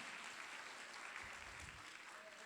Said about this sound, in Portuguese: Vamos dar uma salva de palmas, podem sentar.